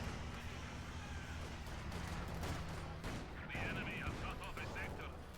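Gunfire and artillery crack through a Company of Heroes 2 battle between Wehrmacht and Soviet forces, with repeated shots and booms over a dense rumbling war din while a commentator talks throughout.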